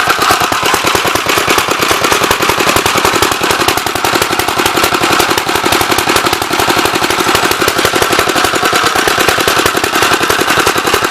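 A 1964 Gravely L tractor engine, flooding, running rough and steady with a rapid, sputtering rattle, loud and close, continuing without a break and with no voices.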